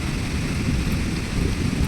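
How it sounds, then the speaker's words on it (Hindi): Heavy rain pours steadily during a cloudy monsoon downpour outside a house, a dense continuous hiss with low rumbling thunder underneath, loud and close, with no talking. "बारिश झमाझम"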